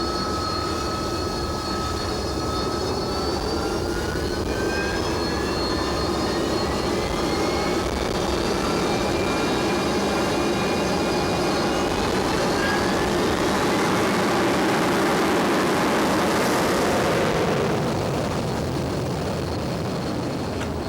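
Harrier jets of 801 Squadron aboard the aircraft carrier HMS Ark Royal make a steady, loud jet engine roar with rising whining tones that swell toward the end, with no talk.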